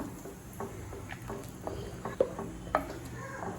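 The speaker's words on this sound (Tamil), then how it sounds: "இப்போ நல்லா மிக்ஸ் பண்ணிக்கலாம்." A spoon stirs egg kurma gravy with coconut paste in a pan, producing soft, irregular scrapes and a few light taps over a faint background hiss.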